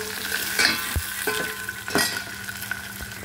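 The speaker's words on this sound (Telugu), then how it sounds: "చూసారు కదా, వేగుతున్నాయి." Chopped onions and green chillies fry in a pan while being stirred, a constant sizzle broken by several sharp scrapes and clinks of a spatula against the pan, close and clear with no talk.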